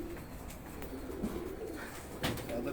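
Soft, low cooing of UAE pigeons drifts through a steady background hum, with a brief louder rustle near the end.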